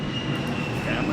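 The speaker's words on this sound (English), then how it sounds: "We got jets flying over in Chicago because, like, there's, like, some kind of air show." Jet aircraft passing overhead during an air show in Chicago, a steady broad roar heard from indoors through an open window, continuous and moderately loud for the whole moment.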